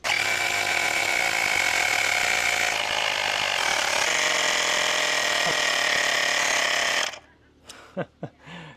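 An Auxito portable electric air pump inflates a car tire toward 35 psi, a loud buzzing mechanical drone that runs steadily close up and then cuts off abruptly, followed by a few faint clicks.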